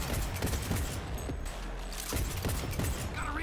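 Pistol fired in the video game Cyberpunk 2077, several sharp shots spread through dense, loud combat noise with a steady din of action underneath.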